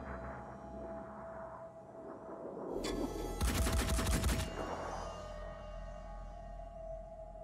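Gunfire in the strategy game Phoenix Point, a dense burst of rapid shots lasting about a second and a half over a steady low background hum, with no talk.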